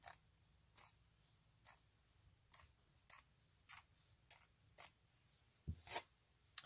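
Scissors snip through blue velvet in slow, evenly spaced single cuts, each a crisp close click over a quiet background, about ten in all.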